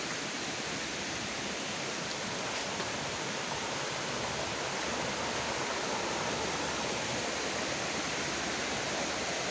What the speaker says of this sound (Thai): ก็ถือว่าน้ำตกสวยมากเลยครับ